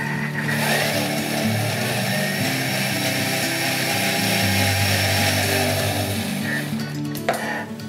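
A blender whirs loudly and continuously as it mixes a raspberry smoothie, the motor pitch shifting as the load changes, then cutting off abruptly near the end.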